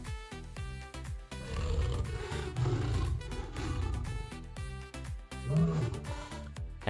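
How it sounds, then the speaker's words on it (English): A lion roars repeatedly in deep, rumbling bursts close by, set against layered musical tones and background sound that run throughout. "L is for lion, roaring nearby."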